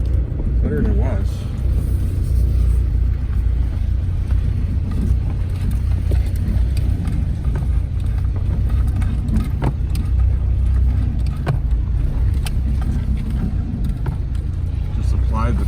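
A Mk2 VW Jetta 1.8 engine runs at a steady idle after its first start in over 10 years, a constant low rumble close by with faint clicks on top.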